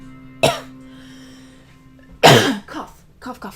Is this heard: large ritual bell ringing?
no